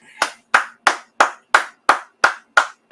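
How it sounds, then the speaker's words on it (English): Nine crisp, evenly spaced hand claps ring out in a slow, steady rhythm at a scripture class, each sharp and close with a short decay and silence between them. "Just clap it up"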